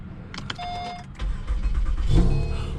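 A stranded car's engine cranks and catches, a short whirring start followed by the low, rising rumble of the engine settling into a run, heard close with no talk.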